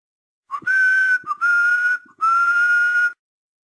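A man whistles softly through his lips, a muffled, breathy tune in three sustained phrases separated by short pauses, close and alone with no talk.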